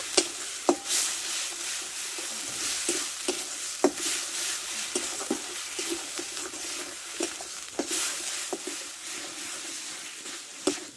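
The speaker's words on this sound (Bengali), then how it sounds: "ভালো করে ভেজে নেব আদা রসুন পেঁয়াজটা" Ginger, garlic and onion fry in a pan with a continuous bright sizzle, punctuated by frequent spoon scrapes and clinks as they are stirred.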